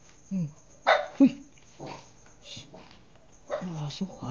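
A dog barks a few scattered times at night in a cemetery, short sharp yelps spaced over a few seconds, fairly close, with quiet between and a person's brief voice nearby.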